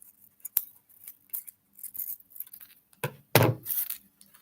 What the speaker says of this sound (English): So part of the liner I've got there, I'm just going to cut a section of that out.